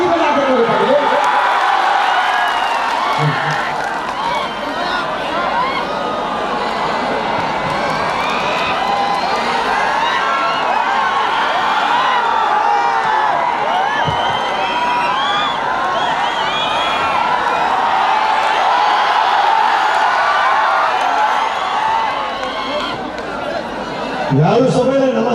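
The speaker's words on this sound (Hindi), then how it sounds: "ठीक से स्वागत ताली बजा के करो।" A big crowd at a stage show in Nepal: a dense, continuous roar of cheering, applause and chatter, loud and sustained throughout, with a voice over a microphone briefly at the start and end.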